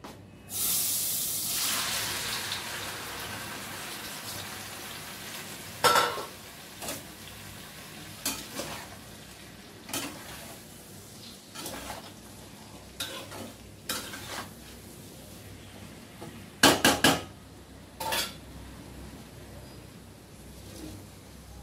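Chicken dropped into a hot pan for a biryani sizzles in a loud burst at first, then settles into a quieter fry broken by scraping stirs and sharp clinks of a utensil against the pan.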